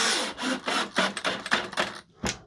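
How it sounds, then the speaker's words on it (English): A DeWalt 12-volt drill drills in a series of short, close bursts of whirring and grinding, separated by brief pauses, ending with one last quick burst. "Here comes the DeWalt."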